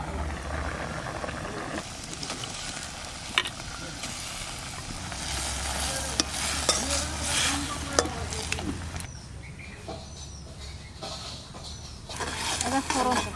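Shapla and helencha greens fry in a pan with a steady soft sizzle, while scattered clacks and scrapes from stirring come through and someone talks nearby.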